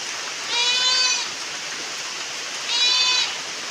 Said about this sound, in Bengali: ওগুলো আমাদের বাড়ির ছাগল।